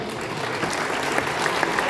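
Steady audience applause at a French evening event with a team of participants, dense and continuous clapping from a large crowd throughout with no distinct voices.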